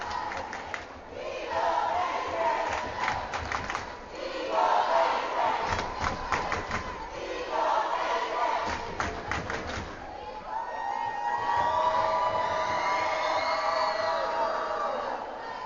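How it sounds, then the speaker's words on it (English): Spectators at a Texas 6A Division I high school volleyball playoff game roar in the gym with loud rhythmic bursts of clapping and chanting. The noise then swells into sustained, ringing cheers and shouts. "As the crowd gets fired up."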